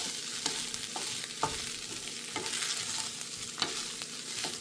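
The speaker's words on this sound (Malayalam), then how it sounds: "ഇനി ഞാനിത് നല്ലതുപോലെ ഒന്ന് മിക്സ് ചെയ്യട്ടെ" A utensil stirs and scrapes cauliflower rice with noodle seasoning in a pan over a medium flame, giving a steady sizzle with soft, irregular scraping taps close by and no talk.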